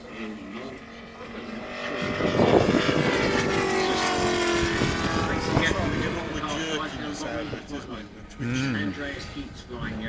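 A North American T-6 Texan propeller plane drones past at an air display with a rising and falling engine roar, while people talk over the noise.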